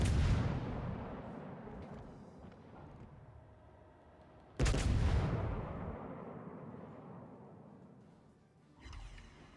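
Warship guns fire shells in the naval battle game World of Warships: Legends. Two loud, booming salvos each land with a sharp crack and then roll off into a long rumbling decay. A smaller thump follows near the end.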